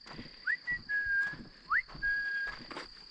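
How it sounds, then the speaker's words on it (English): A person gives a family whistle call outdoors at a campsite, two repeated phrases each made of a quick rising chirp followed by a long steady held tone, clear and fairly close over quiet background with no talking. "Family whistle."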